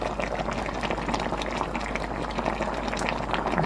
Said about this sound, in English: we're gonna let this come up to a boil